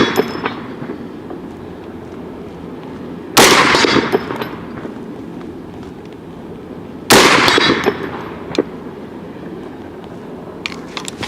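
Two loud rifle shots from a .450 Bushmaster firing Hornady load-test rounds outdoors, each sharp blast followed by a rolling echo, spaced several seconds apart with quieter handling noise between.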